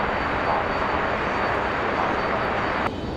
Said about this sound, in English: our A330 and our CRJ as they taxi back